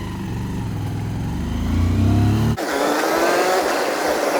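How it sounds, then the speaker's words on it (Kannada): A motorbike ride: a loud, steady engine drone close by that rises slightly as the bike accelerates, then a brief dip and a shift to a rougher, higher-pitched running tone. "ಮುಂದಿನ ಚಾಲೆಂಜ್ ಆಗಿ ಬೈಕ್ ನಲ್ಲಿ ಒಂದು ರೌಂಡ್ ಹೋಗಿ ಬನ್ನಿ"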